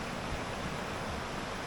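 The fast-flowing River Isar, swollen by recent rain and heard from a bridge, gives off a constant broadband rush of churning water, steady and fairly faint with no voices.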